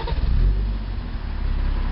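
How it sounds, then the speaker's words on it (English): A BMW diesel car engine, a 2008 US-market model, starts up close by with a rough mechanical burst that settles into a steady low idle rumble. "I'm going to have Benny D start this bad boy up so you can see when he starts it up"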